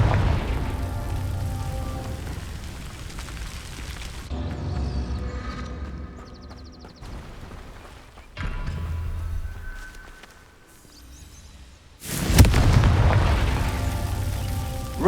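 A Confringo fire spell in Hogwarts Legacy, cast as a burst of blasts: booming explosions and rumbling crackles punctuate a game soundtrack, with a loud final detonation near the end, no voices.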